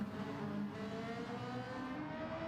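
Ferrari Gr4 race car engine in a Gran Turismo race, a steady high-revving drone with shifting pitch, moderately faint and continuous, with no talk over it.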